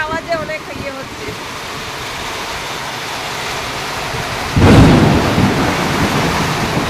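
Heavy rain pours on a tin roof during a thunderstorm, a steady loud roar with a sharp thunderclap bursting in near the end; a voice speaks briefly at the start.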